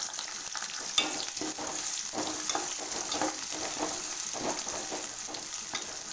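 Small onions fry in a pan for a brinjal tamarind curry, giving a steady, close hiss of sizzling oil broken by frequent scraping stir strokes, with no one talking.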